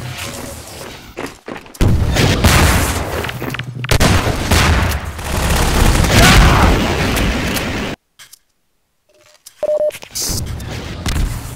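Rapid gunfire and heavy rocket blasts from a Half-Life 2 Deathmatch match crackle loud and dense in bursts, broken by a sudden near-silent gap before a few sharp blips and shots return.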